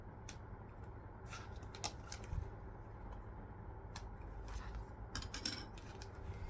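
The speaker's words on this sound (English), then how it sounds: "Let's use the scissors." Scissors cut a hole in a sewn fabric bag, giving faint, irregular snips and clicks over a quiet room hum.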